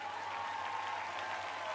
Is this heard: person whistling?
no